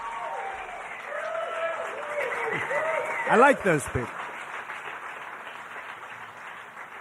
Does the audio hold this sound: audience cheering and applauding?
yes